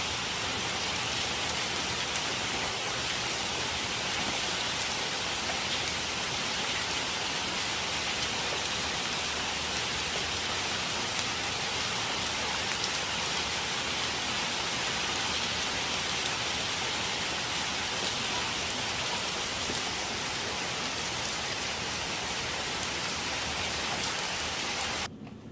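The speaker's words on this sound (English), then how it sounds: "it was pouring rain pretty good" Heavy rain pours down steadily, a dense continuous hiss of drops drumming on surfaces, loud and unbroken throughout with no voices.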